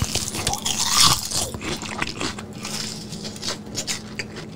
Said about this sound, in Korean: 자 새우튀김 이건 또 졸라 바삭해요.